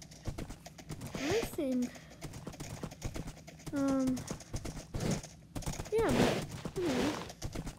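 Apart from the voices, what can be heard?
horse hooves clip-clopping in Minecraft video game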